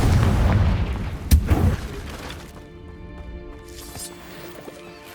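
A Confringo spell explosion in Hogwarts Legacy bursts with a loud booming crack and shattering debris, then fades into a quieter rumbling tail with a couple of lighter impacts.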